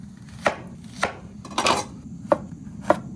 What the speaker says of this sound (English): we're just going to cut the vegetables. Tomatoes, garlic, jalapeno, and onion